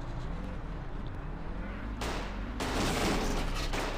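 Gunfire from the mobile game Gangster Crime Mafia City, with two loud bursts of shooting over a steady game background, the second burst longer and continuing to the end.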